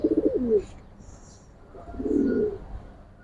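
Racing pigeons in a loft give two soft, throaty coos, a short rolling one and then a fuller one after a pause, close by in a quiet room.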